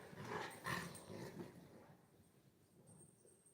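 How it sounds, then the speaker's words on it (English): A dog at play indoors gives a few short barks and yips early on, loud and close, then quieter whimpering noises trail off with no talk over them. "He barks."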